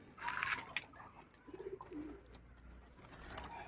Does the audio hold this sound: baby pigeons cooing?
yes